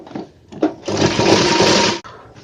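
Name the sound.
sewing machine stitching a men's shirt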